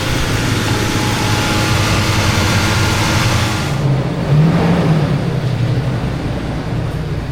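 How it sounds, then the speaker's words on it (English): A rare 1972 Diamond Reo truck, revived after sitting for 20 years, idles high with a loud, steady, continuous engine drone that holds nearly constant throughout, with a slight shift partway through. "it idles really high for quite some time before it learns everything"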